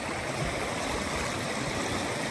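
Creek water rushing as a Ford F150 overland rig fords a flooded Arkansas stream, a steady loud broadband wash and gurgle with no break, close and alone.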